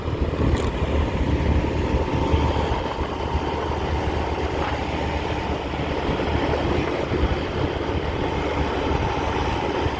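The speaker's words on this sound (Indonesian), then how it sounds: "Kereta api bandara itu ya yang di kiri sana." An airport train rumbles past steadily for the whole stretch, a low continuous rolling drone with faint mechanical rattling, moderately loud and without voices.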